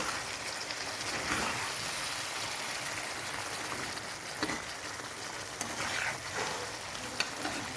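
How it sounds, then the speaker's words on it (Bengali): Chicken simmers with coconut milk in a pan for malai chicken, a steady close sizzle and bubbling crackle with a few soft scrapes and stirs breaking through, no one talking. "নারকেলের দুধটা মিশিয়ে এবার আমি এটাকে একটু নেড়ে দিই"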